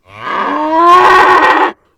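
A bull's long, deep moo in a storybook sound effect, rising and swelling for under two seconds before cutting off abruptly, loud and close with nothing else around it.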